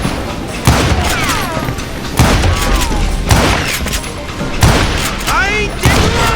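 Loud gunshots sound in the Western shooter Call of Juarez: Gunslinger, heavy reports about once a second with ricochet whines between them, while a voice shouts over the shooting.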